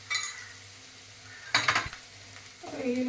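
Spice masala with turmeric stirred in a hot pan for an Andhra-style prawn curry: a brief clatter at the start, a burst of scraping and sizzling midway, then a steady fry hiss with a faint hum beneath, no talking.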